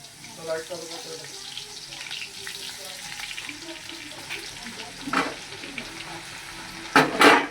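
Ginger-garlic paste sizzling in hot oil with cumin while pav bhaji masala is made, a steady close frying hiss with stirring and a couple of louder bursts of spatter near the end.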